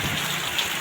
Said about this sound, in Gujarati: જો ધબડાટી બોલાવે વરસાદ.